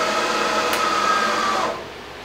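A Willis WM3VS knee mill spindle running in low gear at 34 RPM, giving a steady mechanical whine and hum that drops off sharply near the end as the machine winds down.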